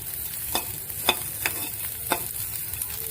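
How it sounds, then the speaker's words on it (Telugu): Ingredients for a bone soup frying in a pan, a steady background sizzle broken by several sharp stirring scrapes spaced about half a second apart. "అందులోకి మనము వేయాల్సినటువంటి ఈ ఇంగ్రీడియంట్స్ ఇట్లా మనం ఫ్రై చేసుకోవాలి"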